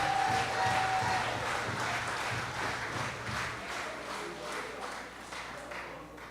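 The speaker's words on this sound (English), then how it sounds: "you should give yourself a round of applause." Sustained applause from a crowd, a dense steady patter of many hands clapping that fades slightly toward the end.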